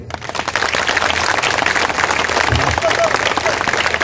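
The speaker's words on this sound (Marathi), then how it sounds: "एकदा टाळ्या वाजल्या पाहिजेत" Audience at a lavni performance claps in a dense, continuous burst of applause that carries through to the end, with a voice speaking over it.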